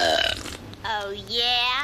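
A loud, drawn-out cartoon burp rolls out during a burping contest in an animated family comedy, followed by a second long, croaking belch with a rising and falling pitch. Both are close and dominant.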